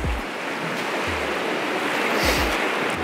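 Ocean surf at Cromwell's Beach in Hawaii rushes in a steady, full wash, with deep low thumps of breaking waves at several points and a hiss that swells near the end.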